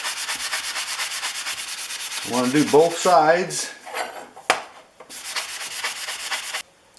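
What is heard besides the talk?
sanding sponge rubbing a Stanley cabinet scraper blade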